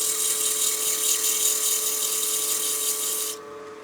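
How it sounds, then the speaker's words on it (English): A wood lathe spins at about 1,000 RPM while 220-grit sandpaper is held to a turned crank-top pepper mill, giving a steady high whirring hiss with a constant hum beneath; the sanding hiss drops away near the end. "So I drop my lathe speed down and I'll start with 220."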